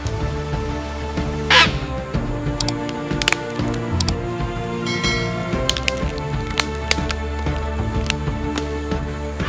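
A macaw high in the crown of a Brazil nut tree gives harsh, raucous squawks, several sharp calls spread over a busy background of other sounds.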